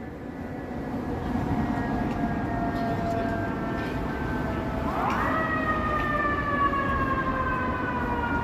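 Fire truck siren wails on a busy downtown Toronto street at rush hour, a steady tone that rises sharply midway into a louder, higher pitch, heard over constant city traffic rumble.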